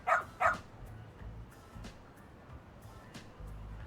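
A dog in Lost Judgment gives two sharp, loud barks at the start, then goes quiet while faint background sounds carry on.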